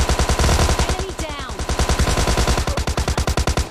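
Rapid automatic gunfire in a shooter video game as an enemy is shot, a loud, close, continuous stream of evenly spaced shots with a brief dip partway through.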